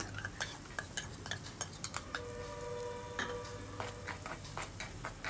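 Fried eggs tipped into a pan of egg tomato rice masala and stirred, with a spatula ticking and scraping against the pan in quick irregular taps over a faint sizzle.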